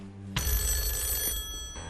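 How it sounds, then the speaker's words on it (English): A telephone rings on a television game show, a loud, bright electronic bell tone that starts abruptly and holds steady for over a second before fading. "This is going to be one of the more important phone calls of your life, Jeff."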